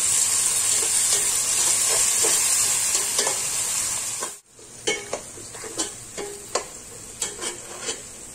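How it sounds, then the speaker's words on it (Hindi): Onions and a large tomato sizzle and fry in a pan for pav bhaji, with a steady hiss that drops out briefly midway, then returns with repeated stirring scrapes and clatters. "अब हम 1 बड़ा टमाटर डालेंगे। नरम होने तक पकाएंगे टमाटर को।"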